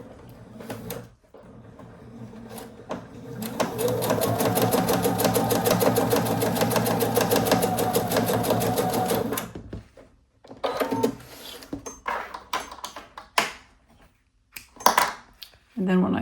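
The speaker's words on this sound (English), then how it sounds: "So when I sew diagonal lines, I just like to line up the points with the line." A sewing machine stitches diagonal quilting lines across a patchwork placemat in one steady, fast mechanical run of about six seconds, followed by quieter handling clicks and taps of fabric and tools.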